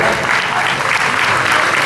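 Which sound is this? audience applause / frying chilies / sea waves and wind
audience applause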